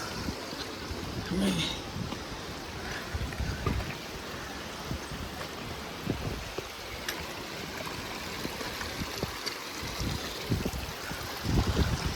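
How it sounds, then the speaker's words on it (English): Glacier meltwater stream rushing over rough ground on a glacier, a steady broadband wash of flowing water with small splashes, moderately distant and fairly quiet throughout. "the water is coming, the glacier melt is coming"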